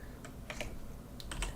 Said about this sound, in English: whenever I type on the keyboard with Opera GX open,